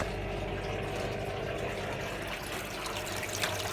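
A Bush F721QW washing machine draining its water, a steady close gurgling rush of liquid through the pump and hose that holds constant for the whole stretch, with no talking.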